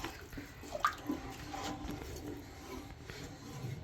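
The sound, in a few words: water poured into the mixer jar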